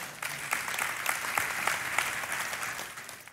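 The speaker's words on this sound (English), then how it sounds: "Yes, go ahead and clap." A small audience claps for a few seconds, a brisk patter of hands that swells briefly and then tapers off.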